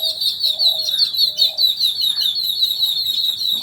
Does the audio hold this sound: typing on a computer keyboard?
no